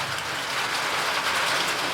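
Steady rain falls across a motorcycle campsite, a dense even hiss of drops pattering continuously on surfaces with no pauses or voices.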